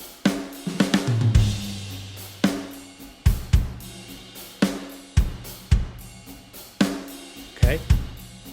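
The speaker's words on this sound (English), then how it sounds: "So the drums sound like this." Programmed drums from the Modern and Massive plugin by Get Good Drums for prog rock, loud and close, with punchy kick and snare hits at a steady groove and ringing cymbals and toms between them.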